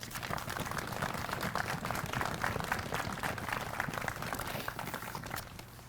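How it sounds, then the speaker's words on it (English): A crowd gives a round of applause at a Wreaths Across America ceremony honoring veterans: steady, even clapping from many people at a moderate distance, sustained throughout without a break. "Please join me in a well-deserved round of applause."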